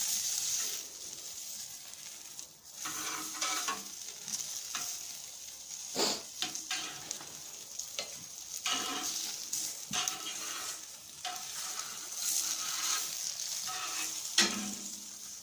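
Beef fat sears over open flames on a Primo grill, giving a loud, continuous crackling sizzle with frequent sharp pops and spits. No one speaks.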